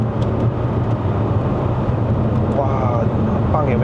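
A 2012 Audi S8 with a 4.0L TFSI twin-turbo V8 pulls hard under acceleration on a road in Malaysia, a steady, dense low engine roar heard from inside the cabin, with excited voices talking over it.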